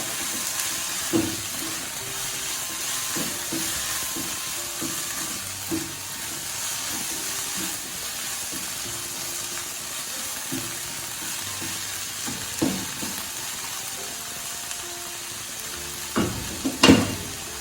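Soya chunks frying in a pan with dried red chillies, sizzling steadily while a spoon stirs and scrapes, with several sharper clinks and scrapes standing out near the end.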